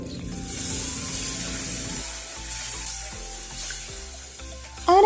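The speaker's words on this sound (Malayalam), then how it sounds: "നമ്മൾ പൊടിയെല്ലാം ഒന്ന് നല്ലപോലെ എണ്ണയിലിട്ട് മിക്സ് ചെയ്തതിന് ശേഷം നമ്മൾ ഫ്ലെയിമൊക്കെ ഒന്ന് ഓൺ ചെയ്യുന്നുണ്ട്" Spice powders sizzle in hot oil over a lit flame, a steady close frying hiss with stirring scrapes and clinks, ending in a louder burst of sizzle.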